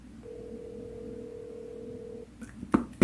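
Phone call ringing, a single long steady tone held for about two seconds, followed by a few brief clicks and louder knocks at the end, no voices.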